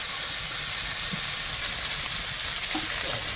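Onion, peas and chopped tomato stir-frying in a pan, a steady soft sizzle and hiss, fairly quiet and continuous with faint stirring sounds.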